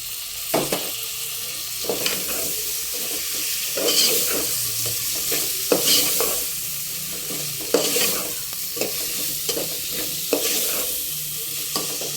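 Tomatoes fry and sizzle in a pan for a spicy chicken pulao while a spoon stirs them, with a steady hiss and repeated scraping strokes, close and moderately loud, with no talking.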